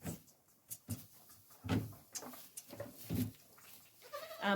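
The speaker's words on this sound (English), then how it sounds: "How can you not love baby goats?" Newborn baby goats from a kidding season at a bottle-feeding farm bleat in short, shaky cries, several overlapping calls rising and falling close by.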